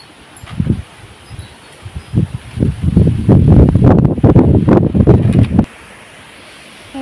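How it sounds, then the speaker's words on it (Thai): Strong gusts of wind buffet the microphone outdoors beside a sweet tamarind tree, building from scattered rumbles into a heavy, continuous roar before dropping away abruptly. "วันนี้รู้สึกว่าลมแรงมาก ๆ เลย"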